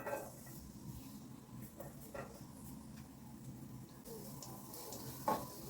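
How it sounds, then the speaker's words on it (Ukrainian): Faint, steady sizzling of garlic frying in oil in a pan over low heat, with a soft continuous hiss and an occasional small tick. "Буквально півхвилинки трошки на маленькому вогні треба підсмажити"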